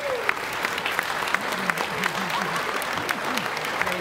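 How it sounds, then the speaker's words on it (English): Audience applause for a comedian at a comedy show, steady clapping from a crowd that sounds fairly close and full, with a voice talking over it. "I want you to give him a big applause"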